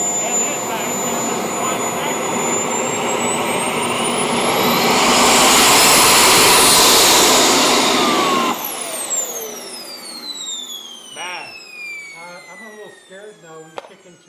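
A single turbine engine on a Russian Su-30 RC model jet runs at a loud, steady high-pitched whine, swelling to a roaring peak before spooling down with falling whistling tones.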